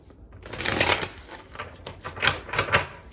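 Tarot cards are shuffled in quick riffling bursts, a papery flutter that rises and falls over a few seconds, close up.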